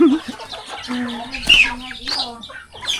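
Native chickens clucking and calling on a farm while being fed, a flock giving repeated close clucks with one louder squawk midway, no talk over them.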